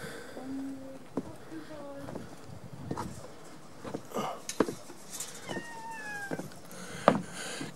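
Cats at Alanya castle give several short, faint meows scattered over quiet outdoor ambience, with soft voices talking in the background.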